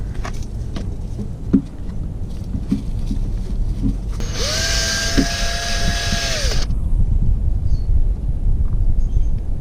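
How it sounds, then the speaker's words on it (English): A power drill spinning a cone buffing wheel with polishing compound on car wheel spokes whines steadily for about two seconds, rising and falling in pitch, amid background clatter and ambient noise. "put some compound down and then just hit it with the drill"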